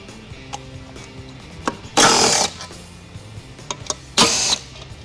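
A power tool with a T45 Torx bit backs out the bolts that hold the lid onto the base of an Endurant TX12 transmission, in two loud, short whirring bursts separated by quiet handling clicks.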